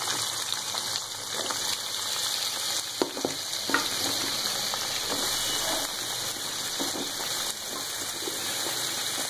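Pumpkin and other vegetables sizzle and crackle in a frying pan over low heat, a steady hiss with occasional stirring scrapes and pops.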